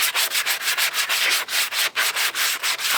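Sanding the bed of a 1987 El Camino ahead of a roll-on Herculiner bed liner, with close, loud, rhythmic back-and-forth rubbing strokes in quick steady succession, working into corners, with no talking.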